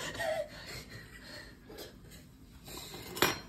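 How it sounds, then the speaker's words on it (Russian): A spoon stirs pie dough of warm milk, warm water and an egg in a bowl, giving soft, uneven scraping and light clinks against the dish, quiet and close, ending with a sharper knock. "И теперь все это перемешиваем ложкой."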